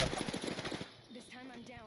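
Rapid automatic gunfire bursts in the Apex Legends video game, a fast rattling string of shots for under a second, followed by quieter game sounds.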